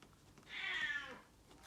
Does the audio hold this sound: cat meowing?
yes